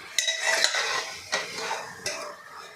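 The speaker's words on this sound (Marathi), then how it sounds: "आपल्याला तीन ते चार मिनटे हे परतून घ्यायचं आहे रंग बदलेपर्यंत आपल्याला हे परतून घ्यायचं आहे" Chicken pieces are stir-fried in a pan over a high flame, with a few sharp clinks and scrapes of a utensil against the metal and a soft sizzle between them.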